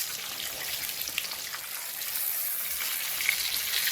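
Food fries in far too hot oil, a dense, steady sizzling crackle with scattered pops, close and continuous throughout.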